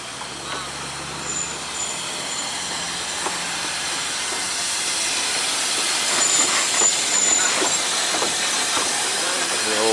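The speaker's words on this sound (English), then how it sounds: "getting ready to take our steam train journey into Wales" A steam train departing Welshpool hisses and rumbles steadily, with occasional whistle-like tones and clanks, building slightly louder over time.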